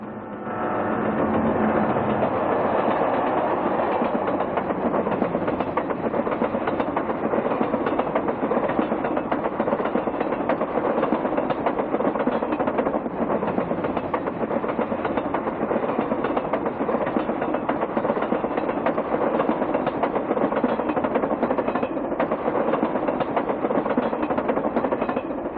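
Santa Fe Chief passenger train pulling out of La Junta behind four diesel units in an ABBA lash-up, a steady, loud, continuous engine roar with rumbling wheels that holds unbroken to the end.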